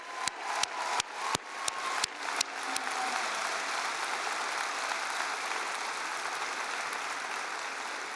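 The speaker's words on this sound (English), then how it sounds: "Another round of applause for our graduates." Audience applause for new graduates at a Faculty of Science convocation ceremony, a steady wash of many hands clapping for several seconds, beginning with a few sharp isolated claps before settling into dense, even clapping.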